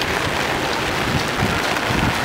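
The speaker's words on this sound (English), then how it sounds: "It's so rainy." Rain pours onto a street in Shinjuku, Japan, a steady, loud, dense hiss of falling water that stays close and unbroken, with no voices over it.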